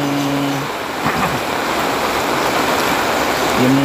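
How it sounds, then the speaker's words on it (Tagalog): Floodwater rushes through a village street during Typhoon Kristine, a steady broadband wash of flowing water that fills the whole clip, with a faint low hum at the start and end. "Medyo bumabaha na dito sa amin"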